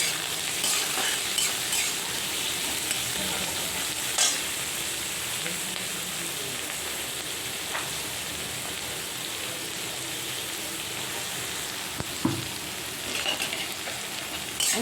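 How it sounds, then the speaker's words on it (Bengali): Chopped onion and green chili fry in a pan with a steady, close hiss and crackle, punctuated by occasional clinks and scrapes of a stirring spoon, with no talking. "পেঁয়াজ কুচি লঙ্কা কুচি এবার একটু হালকা একটু ভাজবো এটা"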